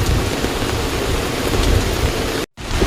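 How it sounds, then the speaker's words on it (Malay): Steady, dense rain hisses loudly and close on a fishing boat, cutting out abruptly near the end before resuming. "Hujan lah."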